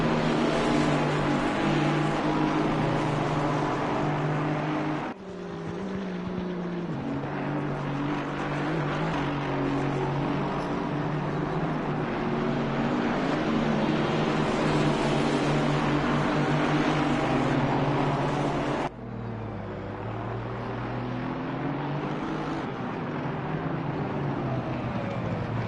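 Racing cars lap Donington Park in a sim racing game, several engines droning together in a dense, continuous whine whose pitch shifts with gear changes, with abrupt cuts in the sound, and no voices.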